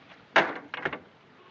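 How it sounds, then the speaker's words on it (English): A door being closed in a 1940 film, heard as a sharp knock followed by a couple of quick clunks as it shuts, close and alone in a quiet room. "And Mullen, close the door, will you?"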